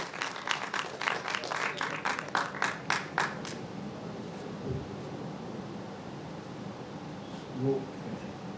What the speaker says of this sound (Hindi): एक बार जोरदार तालियां हो जाएं हमारे तमाम अतिथियों के लिए।